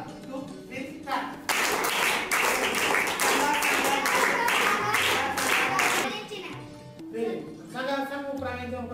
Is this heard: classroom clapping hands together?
yes